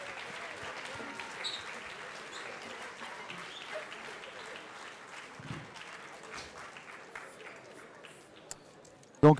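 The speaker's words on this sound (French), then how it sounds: "Je pense qu'on peut les applaudir très fort." A crowd at a youth contest event gives faint, distant applause that continues for several seconds beneath some background voices, ending with a sharp nearby knock.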